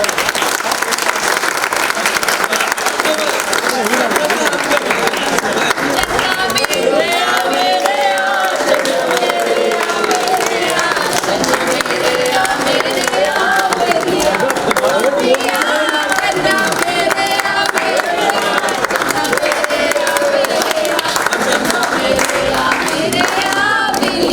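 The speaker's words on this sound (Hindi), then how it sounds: "एक बार जोरदार तालियां हमारे ग्रुप के लिए।" A group celebrating a milestone with cake cutting breaks into sustained clapping and crowd noise, loud and continuous for the whole stretch, with voices and cheering mixed into the applause.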